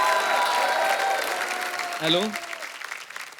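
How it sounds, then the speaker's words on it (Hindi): A studio audience applauds guests on a host's comedy show with a steady burst of clapping that fades slightly, while someone speaks over it. "एक बार जोरदार तालियां हो जाए हमारे मेहमानों के लिए।"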